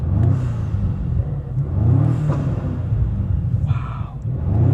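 BMW G90 M5 in hybrid mode fitted with a RamAir carbon intake, giving a low, mild engine rumble with a gentle rev and a faint turbo whir, fairly close and loud, with no voices over it.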